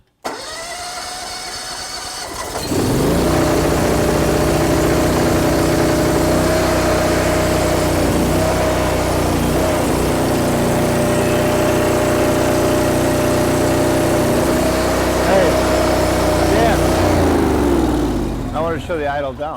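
A DeWALT DXGN14000 commercial generator cranks and catches, then runs at a steady, loud, droning engine roar that holds for many seconds before tapering off; a voice is faintly heard in the background.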